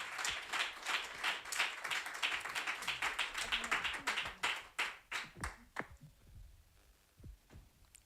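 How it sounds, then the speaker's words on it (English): Audience on a live TV kids' reality show stage claps for a young guest, a dense burst of hand claps that thins into scattered individual claps and fades out. "Hand of applause for Sika Antoinette."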